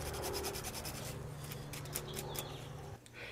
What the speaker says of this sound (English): I'm just going to clean them a little bit so they go in a little bit easier.